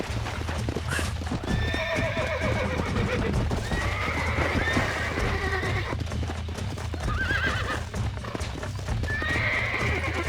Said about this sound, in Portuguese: Agora o cavalo tá só arrodeando aqui, não quer.